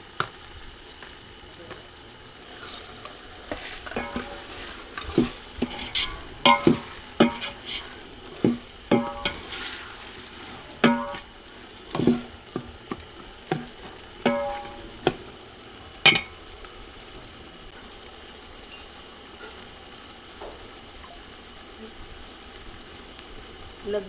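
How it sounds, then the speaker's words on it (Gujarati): Finely chopped tomatoes frying with onion, ginger, chilli and garlic masala for a chole gravy, with a soft constant sizzle broken by repeated spoon scrapes and clanks against the pan, no speech. "હવે આપણે જે ઝીણા ટમેટાં સમારેલા છે એ આપણે એમાં એડ કરી દઈશું"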